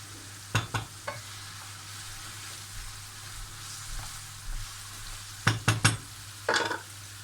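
Chopped onions sautéing in a pan while a broccoli salad is being made, a faint steady sizzle with a few sharp clinks of stirring utensils near the start and again toward the end.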